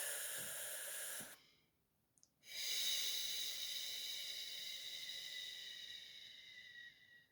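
Slow, deliberate breathing during a breathing exercise, a long airy exhale, a short pause with a faint sniff, then another long, close, hissing breath.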